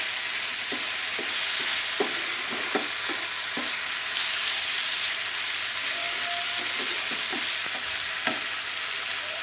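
Chepa shutki, dried fish, being stir-fried bhuna style in a pan gives a steady, loud broadband sizzle, with irregular scrapes and taps from stirring scattered throughout.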